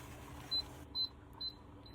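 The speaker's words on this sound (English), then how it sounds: "Then in 4 minutes, it's going to beep" A kitchen appliance on its jam setting gives a series of short, high electronic beeps, four evenly spaced chirps with a low background hum, close and fairly quiet.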